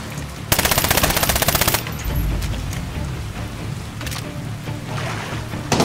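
Rapid machine gun fire in the World War II shooter Medal of Honor, a loud, dense burst of rattling shots in a fast steady rhythm lasting over a second, followed by quieter game ambience with scattered distant impacts.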